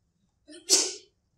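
A single close, sharp human sneeze with a brief inhale before it, heard indoors in otherwise quiet surroundings.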